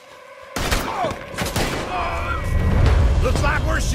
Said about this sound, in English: Looks like we're shooting our way out of here, feller.